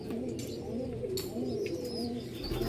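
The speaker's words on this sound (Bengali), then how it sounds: "পায়রা উড়ানোর অন্ধ্রা পায়রা আছে দুটোই বাড়ির বাচ্চা" Andhra racing pigeons, ringed and home-bred, coo softly in low, repeated throaty phrases, close by, with faint chirps in the background.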